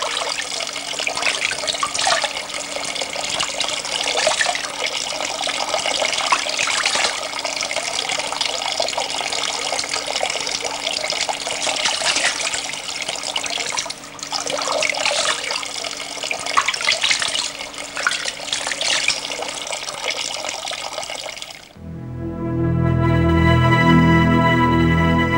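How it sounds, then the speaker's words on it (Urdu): Water pours steadily at a desert spring in Sinai beside an old iron pipe, a continuous close splashing flow, broken near the end by a brief change to a deeper, tonal gurgle. "یہ ایک دوسرا چشمہ ہے جس کو بنی اسرائیل نے استعمال کیا تھا اور صحرائے سینا میں آج بھی قائم ہے"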